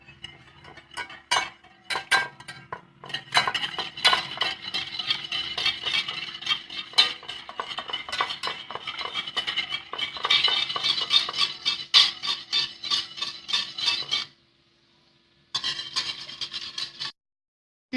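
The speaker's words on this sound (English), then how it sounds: "Now we'll whisk it." Whisk beating eggless pineapple cake batter with milk in a bowl, rapid irregular clinking and scraping strokes close up, continuing steadily, pausing briefly near the end before resuming.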